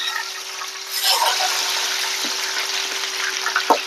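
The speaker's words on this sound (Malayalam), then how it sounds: "എണ്ണ ചൂടായിട്ടുണ്ട് ഞാൻ ഒരു ചുളയൊന്ന് ഇട്ട് നോക്കട്ടെ" Jackfruit pieces fry in hot oil with a steady bright sizzle that swells after a second and stays even, with a couple of soft knocks.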